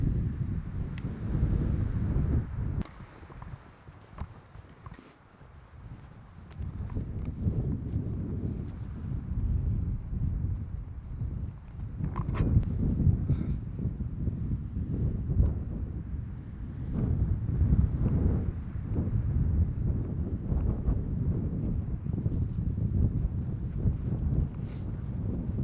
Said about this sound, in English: Wind picked up about probably 30 mile an hour up